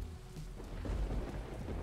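Thunder rumbles low and heavy amid steady rain in the video game Teardown, a deep rolling boom swelling and holding.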